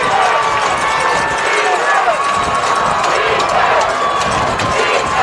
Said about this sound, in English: The De La Salle faithful cheering on their defense